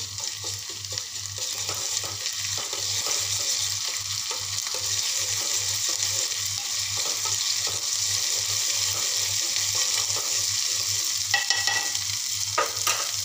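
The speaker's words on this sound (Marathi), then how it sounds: "मी आता लसणाची पेस्ट घालत आहे, त्याला छान असं मस्त मिक्स करून घेते" Garlic paste stirred into softened onions frying in a pan for egg bhurji, a steady close sizzle with a regular scraping rhythm of the spoon throughout, no voices.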